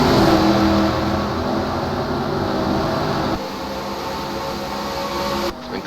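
Stock car engines in a racing video game set at Rio de Janeiro: a continuous, fairly loud engine whine and roar that steps down in level partway through, then dips again briefly at the end, with no talk.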